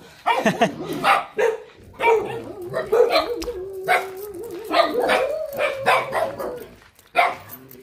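Dogs bark and yip repeatedly at close range, with a whining tone running underneath through much of the stretch.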